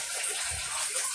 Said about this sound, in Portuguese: Agora eu vou colocar mais água.